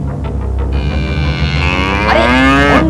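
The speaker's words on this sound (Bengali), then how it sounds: "আরে অন্ধ ভিখিরিটার পেছনে খ্যাপা ষাঁড়।" An enraged bull in a Bengali children's cartoon gives a single loud, drawn-out bellow that rises in pitch and strains toward the end, with no voices over it.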